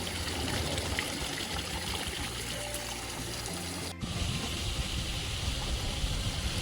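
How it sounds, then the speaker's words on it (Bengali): Water falling from root-covered, cave-like rocks along the Dawki river in Meghalaya during a boat ride: a steady, close rush of splashing water throughout, with a brief dip midway. "এই জল পড়ছে।"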